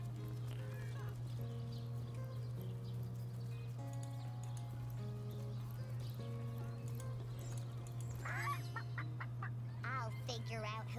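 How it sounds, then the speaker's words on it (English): A chicken clucks in a video game, short bursts near the end over a steady low hum and soft background music. "Chicken."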